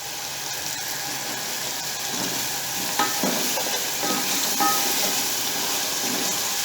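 Mutton frying during bhuna with a teaspoon of Kashmiri red chili stirred in, a steady close sizzle with scraping clinks from a spoon against the pot, no talking.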